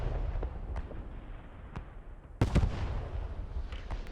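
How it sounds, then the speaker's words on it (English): Explosions in the WWII video game Post Scriptum during a tank battle, heard as a low rumbling backdrop with scattered distant booms and one sharper, louder blast partway through. "Also, don't be alarmed by explosions."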